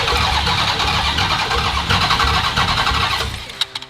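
A Ram TRX truck engine cranks over steadily on the starter during a compression test, loud and close, with a rhythmic chugging that continues for several seconds and then stops, leaving a few faint clicks.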